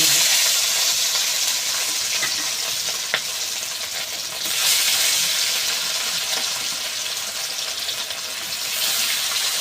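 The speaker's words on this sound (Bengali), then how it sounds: "তেল তো বেশ ভালো করে গরম করে নিয়েছি এইবার এক এক পিস মাছ দিয়ে ভালো করে ভেজে" Fish pieces frying in well-heated oil for a spicy fish curry with aubergine, a steady close sizzle with a few crackles throughout.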